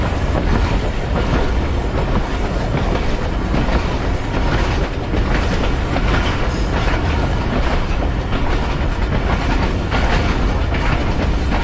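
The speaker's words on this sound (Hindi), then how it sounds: "ट्रेन आगे बढ़ रही है" Thal Express passenger train running along the tracks between Rawalpindi and Kundian Junction, a loud continuous rumble with rhythmic clickety-clack of wheels over rail joints, heard from on board without pause.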